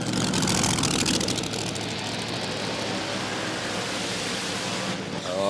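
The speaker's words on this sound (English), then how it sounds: "A lot more RPM taken into the burnout for the Dragster." A drag-racing dragster holds a high-RPM burnout at the 2024 NSW Championship Series grand finale, a loud continuous engine roar with broadband tyre-smoke hiss that stays steady throughout, rising slightly at the end.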